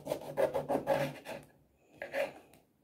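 A knife slices juicy lemons into thin rounds on a board, with a quick series of close rasping, wet cuts followed by a pause and two more strokes.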